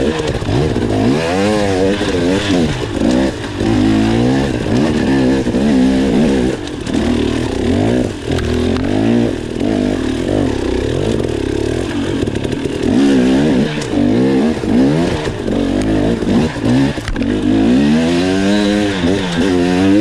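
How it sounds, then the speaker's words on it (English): A 2019 KTM 250XC two-stroke dirt bike engine runs steadily, a loud nearby idle with wavering revs and a few brief blips, without talk. "So just let it run a second."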